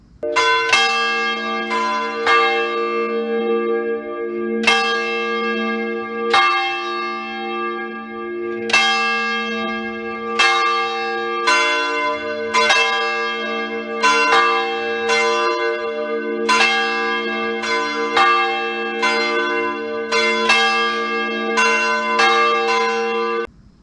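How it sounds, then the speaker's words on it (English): Church bells ring out in a steady, overlapping peal, each strike leaving a long shimmering tail, continuing without pause and with no voices. "when I do hear church bells"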